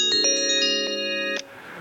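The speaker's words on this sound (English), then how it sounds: "Please disregard this phone call." Electronic phone ringtone sounding during a public meeting call, a loud sustained multi-tone melody with rhythmic pulses that cuts off abruptly after about a second and a half.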